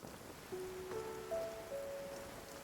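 A soft, steady patter of rain fills the Genshin Impact game world, faint and even, while a few sustained synthetic musical tones drift over it, with no talking.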